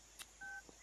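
Telephone keypad dialing tones from a phone call being redialed, a few short separate beeps with one held tone in between, quiet and alone with no talk.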